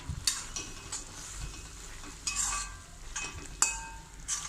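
A spoon scrapes and stirs through okra in a pan, with soft sizzling underneath and a few sharper clinks against the metal.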